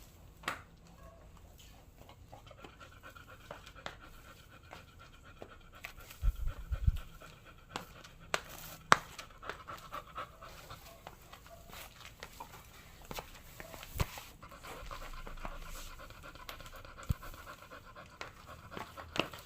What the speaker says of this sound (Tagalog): Hinihingal si Ritz.